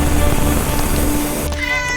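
A cat in an animated bee-attack adventure lets out a loud, drawn-out meow that cuts off abruptly near the end.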